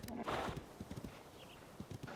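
Horse hooves clip-clopping in a rapid irregular rhythm with a brief neigh, from a horse being tamed in the video game Zelda: Tears of the Kingdom; close and fairly loud throughout.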